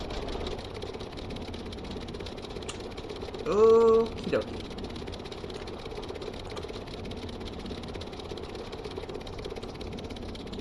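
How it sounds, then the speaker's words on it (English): Engines on a VTOL build run during a test, a steady mechanical drone that carries through the whole stretch. A short spoken phrase rises briefly above it partway in. "first test to make sure the engines work"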